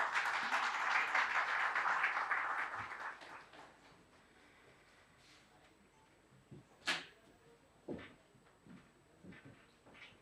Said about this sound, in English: I request everyone to give a round of applause, please.